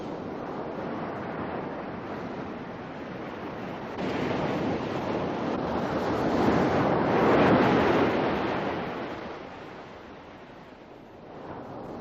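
Surf breaks on a rocky shore on the Paracas Peninsula, where black oystercatchers feed. Waves wash in a rolling rhythm, and one big surge swells near the middle before receding. Wind buffets the microphone, and no one speaks.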